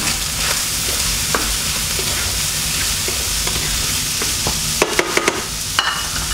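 Vegetables stir-fry in a pan for Indonesian nasi goreng, a loud, continuous sizzle with scraping stirs and a quick cluster of sharp utensil clicks near the end.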